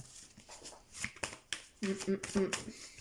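Tarot cards are shuffled and placed during a reading, giving soft papery flicks and taps, several short brushes in a row, close and quiet with a voice speaking over them.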